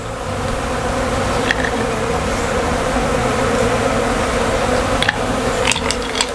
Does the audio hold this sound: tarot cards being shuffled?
no